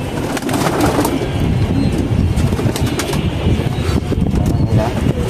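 Pigeons coo in a low, throaty, continuous murmur close by, mixed with rustling and flapping from a loft full of birds.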